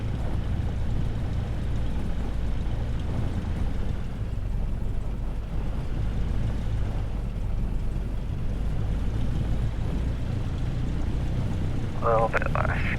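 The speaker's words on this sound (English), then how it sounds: "we can actually bring a tiny bit more throttle" A Cessna 172R piston engine idles with the throttle nudged slightly up in Microsoft Flight Simulator 2024, a steady low rumbling drone that runs unbroken from start to finish, with a short chirp near the end.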